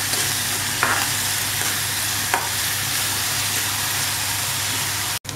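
Onions frying in oil in a pan for an egg kothipori, a steady close sizzle with a few brief scraping stirs of a spoon, no voices.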